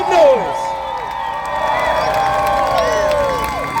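A St. Louis crowd at an outdoor show cheers and whoops in a loud, sustained roar, with a few shrill whistles and cries rising over the din.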